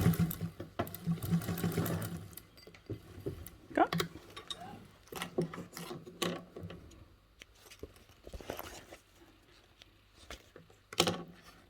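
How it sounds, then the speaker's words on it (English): A sewing machine top stitches a seam with a 1/8 inch allowance, running in bursts of mechanical whirring and ticking that stop and start, with some handling noise between runs. "we're going to top stitch this with a 1/8 seam allowance"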